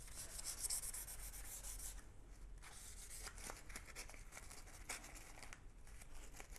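A stamped metal bracelet blank is rubbed to take patina off its surface, giving a soft, continuous scratchy friction close by, in steady strokes with brief pauses.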